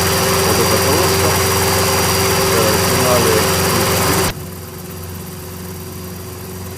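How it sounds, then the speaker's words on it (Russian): A small, very light two-seat helicopter with a 136-horsepower engine idles in a steady, loud droning hum that cuts off abruptly partway through, leaving a much quieter background. "Небольшой двухместный вертолет, очень легкий, крайне легкий. И с довольно мощным моторчиком для такой маленькой машинки, 136 лошадиных сил."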